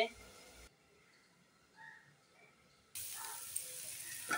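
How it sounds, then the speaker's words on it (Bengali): Potatoes frying in a pan of hot oil for a fish curry, a steady sizzle that drops out for a moment and then returns louder and brighter with a crackling hiss. "আলু ঢাকনা উঠিয়ে আলুটা ভালো করে ভেজে নেওয়া হচ্ছে"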